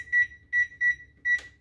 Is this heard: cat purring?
no